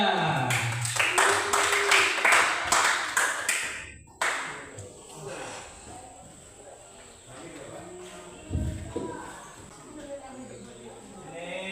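Classroom applause for classmates about to present, a burst of many hands clapping in quick rhythm for about four seconds before stopping abruptly, followed by a teacher speaking with classroom murmur.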